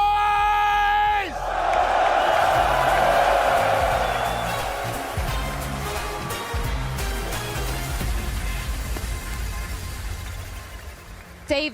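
A loud arena crowd at a Counter-Strike Major match roars and cheers after a brief shouted call, the broad wash of noise swelling then slowly fading.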